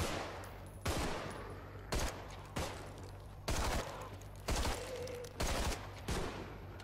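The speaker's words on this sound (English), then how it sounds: "I've got an assault rifle, an AR-15" AR-15 assault rifle fire in the video game Contagion comes as about seven loud, sharp bursts of rapid shots spaced roughly a second apart, with no talking.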